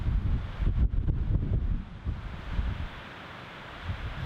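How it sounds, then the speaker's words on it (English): Wind and rain heard from inside a barn: a steady rushing, buffeting roar with low rumbling gusts, swelling early then easing to a quieter even hiss. "It's windy and rainy."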